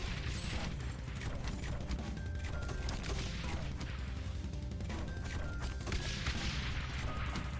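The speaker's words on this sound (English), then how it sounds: "He was almost killed immediately with the 2 mortars." Mortar fire and explosions in a video game, with dense repeated booms and crashing impacts continuing loud and unbroken throughout.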